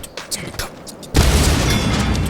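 A grenade blast on cargo containers in the game Helldivers 2 erupts suddenly after quieter speech, a loud broadband boom that rolls on as a dense rumbling roar to the end.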